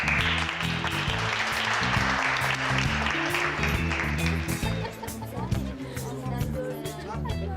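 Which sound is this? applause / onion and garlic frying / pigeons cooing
applause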